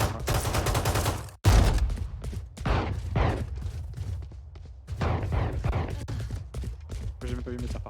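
Gunshots in the Valorant video game ring out as loud bursts of rapid fire, with a sharp crack partway through, while players talk over the shooting.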